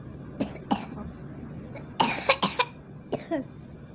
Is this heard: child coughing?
yes